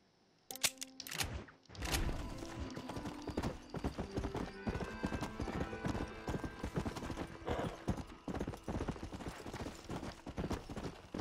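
Repeated horse hoof clip-clops from a horse in the Red Dead Redemption video game, a steady trotting rhythm running through most of the stretch with game ambience and a brief whinny-like sound early on.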